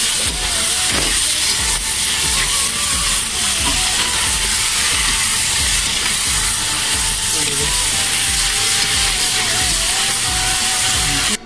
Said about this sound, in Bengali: এখন চলছে মাংসের পেঁয়াজ কষা